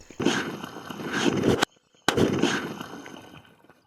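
Petrol bomb exploding in a pond: a sharp close blast with a rushing, splashing roar that cuts off abruptly, then a second loud burst that fades out.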